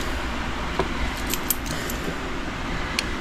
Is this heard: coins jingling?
yes